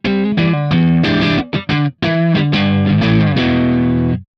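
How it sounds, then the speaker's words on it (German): Distorted electric guitar through a Kemper Profiler with a Marshall-style, mid-heavy crunch, playing a loud run of notes and chords with brief gaps and a sustained final chord, no talking. "Dieses Profile hat in seiner ursprünglichen Form einen typischen Marshall-Charakter mit einer mittenbetonten Verzerrung"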